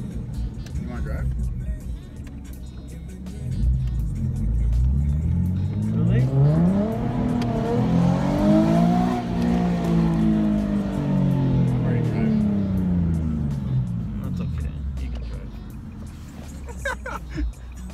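A car drives with a rising and falling engine note as it accelerates and eases off, tire and road noise underneath, recorded from inside at close range.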